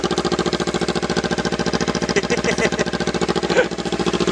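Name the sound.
Kawasaki Versys motorcycle engine with bare exhaust pipe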